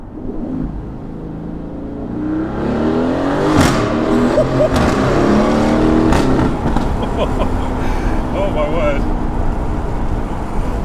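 A Mercedes-AMG A35 engine roars and revs hard inside a tunnel, its exhaust note changing pitch, climbing and falling through gear changes, loud and close, with a person exclaiming over it.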